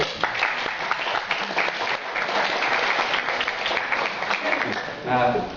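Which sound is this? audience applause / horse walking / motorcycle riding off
audience applause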